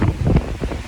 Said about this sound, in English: it's definitely some aggressive wind and wave